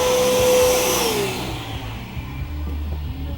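Shop vacuum cleaner sucking up metal drill shavings during fabrication of a go-kart e-brake system, a loud steady whine with a tonal motor hum that winds down partway through, leaving a lower rumbling drone.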